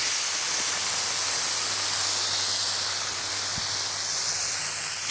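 Soy-marinated beef sizzles on a hot griddle, a dense, even, close hiss of frying that holds steady throughout with no talking.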